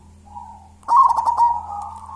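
A local wild perkutut zebra dove of the lurah type coos with a smooth, tonal call. A soft opening note is followed by a louder, wavering run of coos that trails off, heard alone against a low steady background hum.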